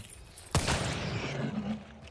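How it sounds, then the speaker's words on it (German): A gunshot in the video game Hunt: Showdown: one loud, sharp report near the middle, followed by a ringing tail over steady game ambience. "Ein Schuss."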